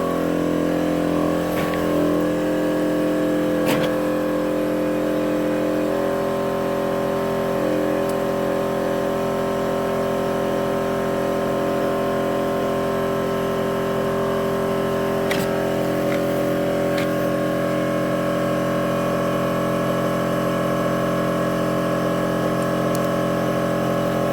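A small air compressor inflates a tractor tire, giving a steady, close mechanical drone with a constant hum that runs through the whole stretch, broken by a few faint clicks.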